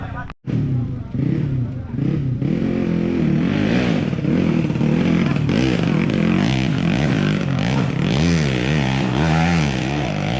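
A GTX underbone motorcycle revs hard on a hill climb, its engine note rising and falling throughout, close and loud, with a crowd babbling and voices underneath.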